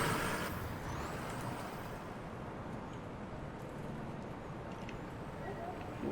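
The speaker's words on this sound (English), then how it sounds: "You can see our truck company here is approaching." A fire truck approaches in the EmergeNYC firefighting video game: a steady, dense engine-and-traffic rumble that stays fairly constant throughout, with no distinct siren standing out.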